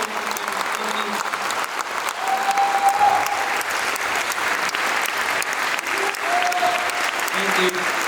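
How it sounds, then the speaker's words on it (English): Steady applause from a concert audience at a University of Miami tribute event fills the clip, dense and continuous clapping with crowd murmur, loud and close throughout without a break. "please keep clapping for Mr. Brian Lay on the bass guitar"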